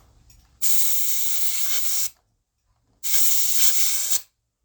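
Aerosol spray can hissing while cleaning a Roborock Mijia S5 Max robot vacuum, two sustained close bursts of about one and a half seconds each, separated by a short silence.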